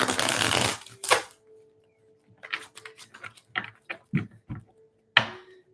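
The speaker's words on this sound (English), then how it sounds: "keep shuffling" A deck of tarot cards riffled and shuffled in several quick bursts, close by, with a longer shuffle at the start and short snaps and taps after.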